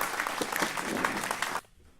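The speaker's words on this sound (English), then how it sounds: "Big round of applause, please." An audience at a poetry cup event applauds warmly, a dense, even wash of clapping that stops abruptly after about a second and a half.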